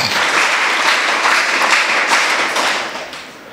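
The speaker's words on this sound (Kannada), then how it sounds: "ಚಪ್ಪಾಳೆ ಬೆಲೆ ಅರುಣಿಮಾ ಸಿನ್ಹಾ ಅವರಿಗೋಸ್ಕರ." Audience applause for Arunima Sinha at a school assembly event in Hebri, a steady wash of many hands clapping that fills the room for several seconds before tapering off slightly at the end.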